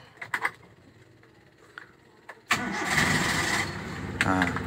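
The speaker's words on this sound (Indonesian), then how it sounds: "suaranya masih nyaring ini ya Cherry tahun 96" A 1996 Chery car engine cranks over and catches, settling into a steady running idle close by after a few faint clicks and knocks, with no talking over it.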